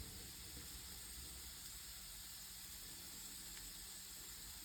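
Whole slices of smoked ham sizzle in a frying pan, giving a soft, steady hiss that stays faint and even throughout with no voices.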